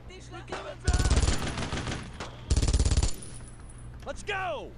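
Two loud bursts of rapid automatic fire in the World War II video game Brothers in Arms: Road to Hill 30, each lasting under a second, with quieter ambient battle noise between and after.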